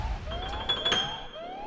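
An alarm siren sounds briefly as a steady high electronic tone, joined by a few glassy clinks, in a mystery game show set.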